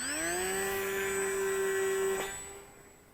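Eachine Mini P-47 Bubble Top RC plane with a brushless motor conversion, its motor whining steadily at launch, strong and close at first, then fading as the plane climbs away.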